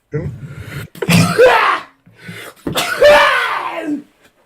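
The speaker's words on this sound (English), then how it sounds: "You made him sneeze." Two loud, close sneezes about two seconds apart, each a sharp intake followed by a bursting release, with room silence between them.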